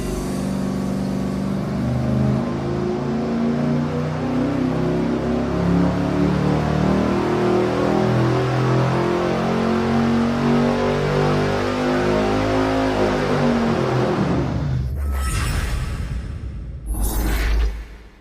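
Engine running on a dyno with the O2 sensor port left open, creating a massive exhaust leak: a loud, sustained droning roar with rising pitch, then it cuts off and two brief bursts of hiss follow.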